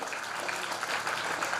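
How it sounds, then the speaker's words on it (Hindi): A school Teachers' Day crowd claps steadily in a dense, even patter of applause, moderately distant and without pauses. "जोरदार तालियां मैम के लिए."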